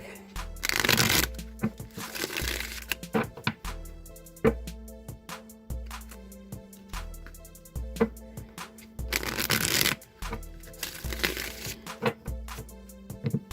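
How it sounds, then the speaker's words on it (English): Tarot cards are shuffled in several bursts of riffling and flapping, with soft taps and clicks between them and faint music underneath. "2 more shuffles, and then I'll cut the deck."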